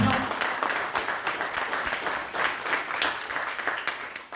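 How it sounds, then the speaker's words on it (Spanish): A church congregation at a vigil applauds, dense rhythmic clapping from many hands that holds steady and then fades slightly, with some voices underneath. "¿Alguien puede darle un aplauso al Señor?"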